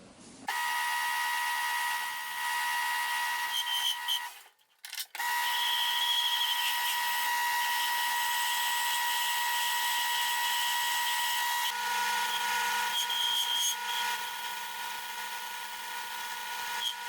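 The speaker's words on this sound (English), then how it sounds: "So we'll cut that taper in this setup." A W F & J Barnes metal lathe cuts a taper on a steel stop collar, a steady high whining tool-on-metal drone that runs continuously, drops out briefly, then resumes with a slightly shifted tone.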